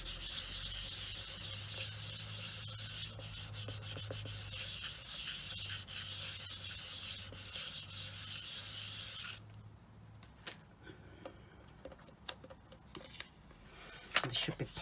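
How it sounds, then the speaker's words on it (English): Steady rubbing and scraping as a faux banded stone finish is burnished, continuous and close for about nine seconds, then fading into sparse handling taps and clicks. "I'll just give it another burnish"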